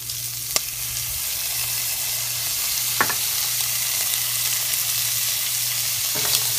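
Chopped garlic, about three cloves, sizzles steadily in a pan with Italian sausage, a constant frying hiss with a few faint stirring clinks, no one talking.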